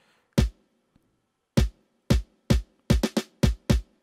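Amapiano drum pattern with kick and snare: punchy broadband hits in a syncopated rhythm, spaced at first then tightening into quick doubled strikes, loud and dry with no voices.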